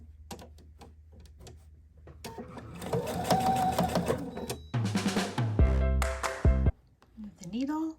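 A sewing machine stitching around the curved edge of a fabric heart, starting with soft clicks, then a sustained fast mechanical whirr that rises in speed, followed by short bursts and a final clunk as the needle stops.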